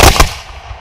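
A field cannon fired at high elevation during a Civil War reenactment gives one loud, close blast that dies quickly into a fading rumble.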